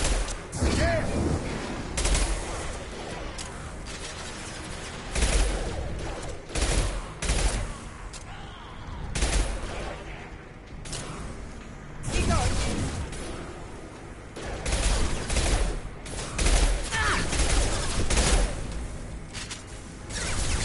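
Rapid bursts of machine pistol fire in a Mass Effect 2 firefight against Vorcha, repeated volleys close and loud with whooshing effects, mixed with game sound and someone talking over it.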